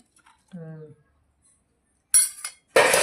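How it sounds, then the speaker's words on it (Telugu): A few sharp metallic clinks and scrapes of a metal ladle against a pot of hot rice, following a brief spoken phrase. "వేడి వేడి అన్నం అయితే పెట్టేస్తున్నాను"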